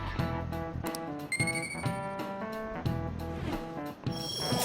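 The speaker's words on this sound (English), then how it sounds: "Did I turn my alarm back on?" An alarm goes off, a bright electronic melodic ringtone with repeating chime-like tones in a steady looping rhythm, loud and continuous throughout.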